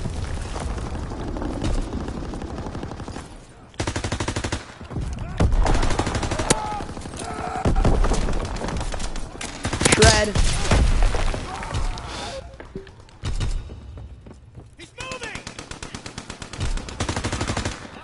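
Gunfire from a weapon in the video game Call of Duty WWII comes in loud, rapid automatic bursts separated by short pauses, with explosions and game effects mixed in.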